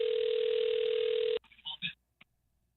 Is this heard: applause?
no